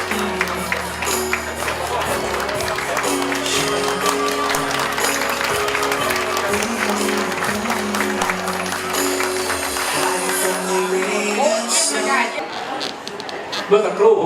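Wedding guests at an evening reception applaud to welcome the groom, steady clapping and crowd murmur running throughout under music and voices, then tapering off near the end.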